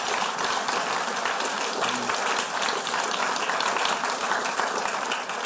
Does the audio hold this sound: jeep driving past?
no